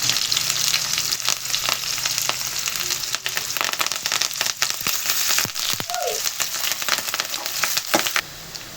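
Onions drop into hot oil with mustard seeds for a drumstick sambar, giving a loud, crackling sizzle with sharp pops and scraping stirs that keeps going steadily before cutting off near the end.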